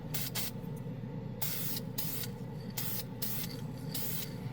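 Dupli-Color Oxide Red primer hissing from a spray can in several separate bursts of varying length, close and fairly loud over a steady low background hum.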